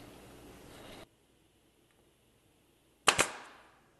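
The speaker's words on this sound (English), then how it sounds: "the brads are now shot through the tape into the wood and into the ply" A brad nailer fires brads through blue masking tape into wood edging on plywood, heard as two sharp, quick cracks close together after a short stretch of quiet.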